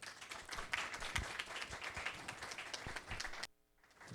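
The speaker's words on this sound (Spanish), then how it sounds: "vamos a darle un cálido aplauso" A crowd at a hospital scientific conference claps in dense, lively applause for about three and a half seconds, then it abruptly cuts to near silence.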